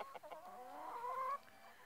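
Farm hens in a cold 32°F morning coop give a few soft clucks, then one longer, rising drawn-out call, faint and close with no talk.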